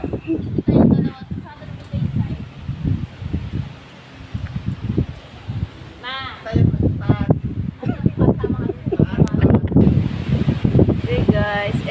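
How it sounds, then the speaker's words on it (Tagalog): Gusty wind buffets the microphone in loud rushes, with voices talking throughout. "lakas ng hangin"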